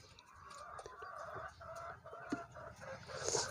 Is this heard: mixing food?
no